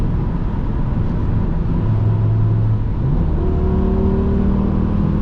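A naturally aspirated V10 engine in a 2007 BMW M6 roars steadily as it accelerates, the pitch climbing through the gears in a loud, continuous drone.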